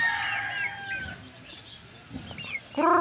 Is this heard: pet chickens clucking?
yes